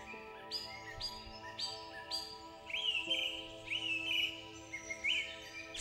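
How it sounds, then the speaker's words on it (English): Birds sing high in the trees of a forest, a steady run of chirps and whistled phrases that rises and falls over a faint hum of background noise. "the distant song of birds in the trees"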